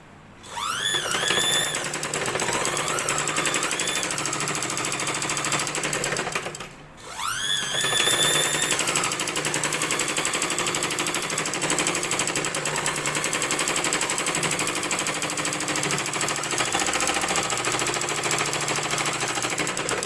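A sewing machine stitches blouse fabric in a rapid, steady mechanical chatter that runs continuously, with one brief stop and restart partway through, heard up close.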